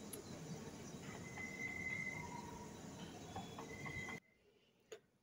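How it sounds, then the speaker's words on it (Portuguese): A passing train rumbles and clatters steadily near a home with a wood-burning stove, with faint wheel squeals riding on top, then cuts abruptly to near silence before one brief click. "Ó, é o barulho desse trem passando."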